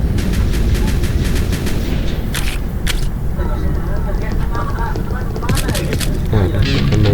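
Gunshots in the Roblox Squid Game war game come as loud, sharp cracks, some single and some in quick bursts, mixed into busy game sound and honking effects, with talk throughout.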